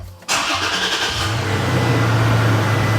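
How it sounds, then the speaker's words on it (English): Toyota Tacoma truck engine cranking and catching with a sudden loud start, then settling into a steady close rumbling idle. "Let's make sure my Tacoma starts first."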